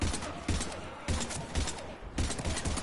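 Heavy bursts of gunfire in a Mass Effect firefight against Husks on the way to the Normandy, repeated loud volleys at a steady pace filling the whole stretch without a break.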